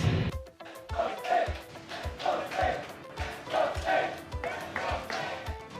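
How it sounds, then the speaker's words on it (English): An esports arena crowd at a Mobile Legends grand final chants "Let's Go Slate" in a rhythmic, repeated pattern with thumping beats, heard at a distance behind nearby talk. "The crowd is hyped. You can hear the Let's Go Slate sneaking into our mics."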